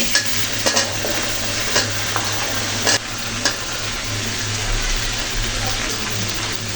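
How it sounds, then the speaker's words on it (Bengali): Chopped gourd (lau) and spices are stirred in a hot frying pan, a loud sizzle broken by several sharp scrapes and clatters of the spatula at irregular intervals. "সবজিগুলো মশলার সাথে এভাবে নাইড়ে চেড়ে দিচ্ছি যেন সবজির সাথে মশলাগুলো ভালো করে মিলে থাকে"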